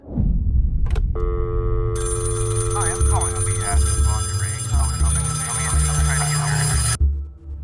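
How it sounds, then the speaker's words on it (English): A telephone rings with a steady electronic trill, loud and continuous for several seconds over a low hum before cutting off. "Our story begins with a phone call."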